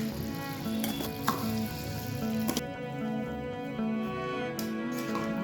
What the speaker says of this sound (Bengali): এবার গুড় আর চিনির মিশ্রণটাকে দিয়ে দেবো।